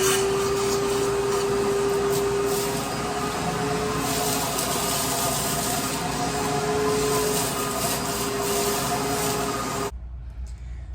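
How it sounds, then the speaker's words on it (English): A shop vac roars steadily as it sucks debris out through PEX pipe taped to its hose, loud and continuous with a constant whine, then cuts off abruptly near the end. "I taped it to the end of my shop vac right here. And I'm literally going to stick this into the element and suck it out"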